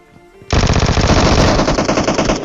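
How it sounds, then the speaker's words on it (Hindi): A Vector submachine gun in a video game fires in one loud, rapid burst that begins abruptly and continues without pause, a dense stream of shots emptying the magazine. "जैसे आप बटन दबाओ कि एमओ सारी की सारी ख़त्म, चाहे 50 रख लो फिर भी ख़त्म हो जाएगी, इतना फास्ट इसका फायर रेट है"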